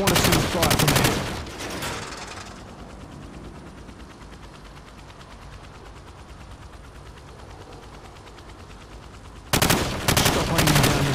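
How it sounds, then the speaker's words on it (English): Hip-fired gun in Call of Duty 4 on Xbox One: two bursts of rapid automatic fire, one opening and one closing the stretch, with a quieter steady game ambience between them. "I want to see you fire from the hip."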